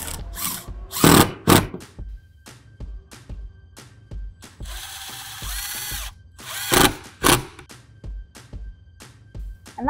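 A power drill drives screws into a wooden outdoor bench seat, with short whirring bursts, repeated clicks and knocks, and one longer steady run in the middle, all close by.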